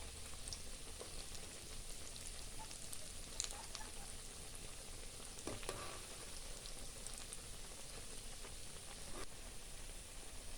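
Cabbage pakoras fry in hot oil with a soft, steady sizzle and scattered tiny crackles and pops, faint and continuous throughout.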